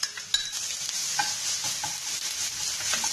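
Turmeric and garlic paste sizzle in a hot pan with curry leaves, a bright steady frying hiss broken by a few stirring scrapes and clicks, heard close with no talking.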